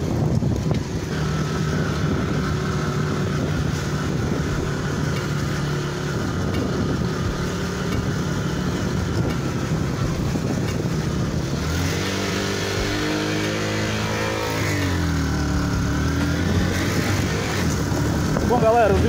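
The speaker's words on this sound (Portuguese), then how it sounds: "A moto tá muito, muito acelerada mesmo" A motorcycle engine runs hard and steadily throughout on a motovlog ride, a continuous close droning roar with shifts in pitch partway through, and a voice is faintly audible over it.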